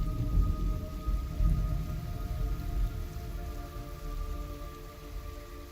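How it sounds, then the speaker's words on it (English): Steady rain in the Metal Gear Solid 3 Snake Eater jungle, a dense, moderately loud patter with low rumbling swells and a faint sustained tone beneath, and no voices. "It's raining blood."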